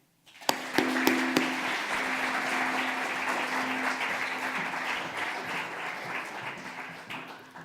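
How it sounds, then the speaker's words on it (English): Audience applause at a debate final gala of a capital market leaders forum, starting abruptly and holding as a dense, steady wash of clapping for several seconds before easing slightly toward the end. "So now please give one round of applause to the brave speaker from the proposition bench"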